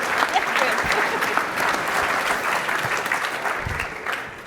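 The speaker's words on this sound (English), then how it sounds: "So can we give Anna, please, a huge round of applause?" An audience at an event at Doltone House applauds, a dense, sustained clapping close by that holds steady before easing slightly at the end, with faint voices mixed in.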